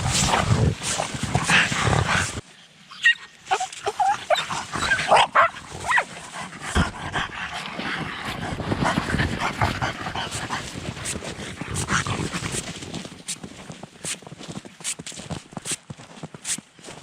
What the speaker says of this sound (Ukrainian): Собаки вже набігались.